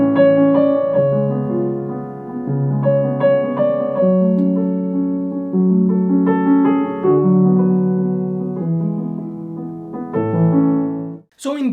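A piano plays the opening of an original composition: a calm, steady melody over low chords, heard clearly and alone for several phrases before a brief break at the end.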